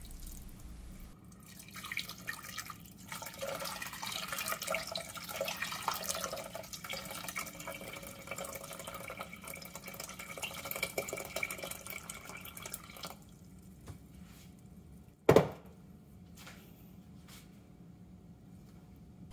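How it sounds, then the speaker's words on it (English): About a liter of water pours steadily into a pot for several seconds, a soft rushing splash that stops, followed by a sharp clunk and quiet. "Pour in about 1 liter or 4 cups of water."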